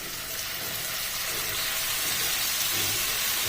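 Soy sauce sizzling in a pan over a low flame, a dense continuous hiss and crackle, close and fairly loud, with no talk over it.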